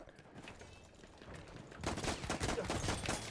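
Gunfire in the first-person shooter Battlefield 1, with sparse shots at first and then a dense burst of rapid automatic fire from about two seconds in, loud and close.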